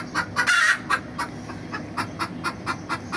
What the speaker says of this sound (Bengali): মুরগিতে ডিম পেরে